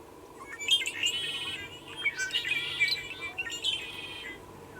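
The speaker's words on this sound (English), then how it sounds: "God, I love the song of the red-winged blackbird." A red-winged blackbird sings outdoors, giving three bright, buzzy trilled phrases spaced a second or so apart over a soft, steady background hush, with no voices.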